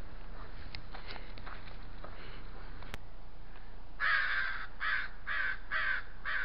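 A crow in Edmonton, Alberta caws in a run of about five loud, harsh calls close by. Softer patter and ambient noise come before the calls.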